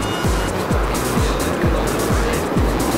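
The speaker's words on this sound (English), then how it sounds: "there's a car coming out now, but oh no, it is parked by the side of the road" A car drives along a desert road surrounded by flat sand, its loud, close engine roar carrying a steady repeating throb of low pulses about twice a second, heard alone without talk.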